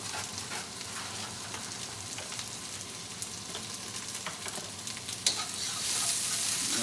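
Chicken piccata fries in a pan with a steady, close sizzle that stays dense and even throughout and swells slightly louder near the end, with no voices over it.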